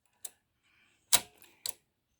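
A knitting machine's charting device advances its paper with three sharp, isolated mechanical clacks, close and crisp, separated by short silences.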